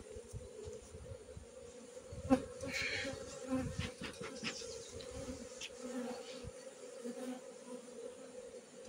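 Honeybees buzzing steadily around an open hive during a spring brood check, a dense close drone with individual bees zipping past, no talking.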